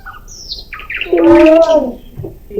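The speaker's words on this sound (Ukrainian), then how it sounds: "Послухайте, як він гарно співає, тьохкає, так? Це соловейко." A bird sings nearby, loud and clear, with a rising whistle and a run of rich, warbling trills like a nightingale.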